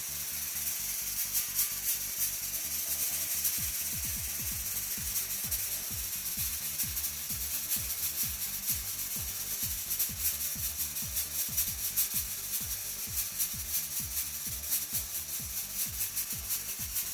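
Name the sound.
Halloween fog machine spraying fog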